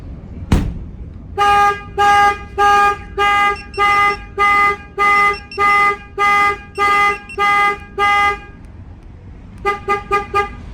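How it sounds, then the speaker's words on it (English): A sharp knock on the vehicle triggers the shock sensor, followed by a loud car alarm honking in a steady, repeated rhythm, then a quicker burst of chirps near the end. "Tells you right there the alarm is triggered by shock sensor"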